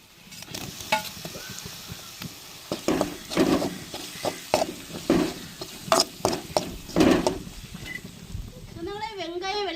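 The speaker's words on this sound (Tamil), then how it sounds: "பூண்டு தக்காளிலாம் வதங்கி வந்துருச்சு" Onions, tomatoes and garlic sautéing in a pan, with a soft steady sizzle under repeated scraping and stirring strokes of a spoon, close up, irregularly spaced; a voice talks near the end.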